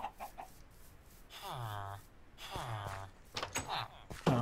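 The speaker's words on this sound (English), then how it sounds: "Oh my gosh, look at all these chickens." Chickens clucking in the Minecraft video game, with two drawn-out clucks followed by quicker calls, heard near and moderately loud.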